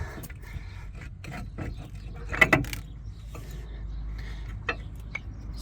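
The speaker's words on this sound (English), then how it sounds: "The brake caliper is going to come free with a little bit of wiggling." A brake caliper, its two 12 mm bolts removed, is wiggled free from a car's brake assembly: a low metallic rattle with one brief scraping clunk midway, over faint background noise.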